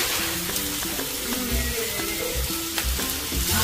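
Onion with ginger-garlic paste, chilli paste and a little salt sautéing in a small amount of oil, a steady close sizzle with occasional stirring scrapes throughout.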